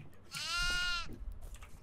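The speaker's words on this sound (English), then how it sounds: "Oh, there's a goat." A goat in the horror video game Devour gives one clear, wavering bleat lasting about half a second, fairly faint behind low background noise.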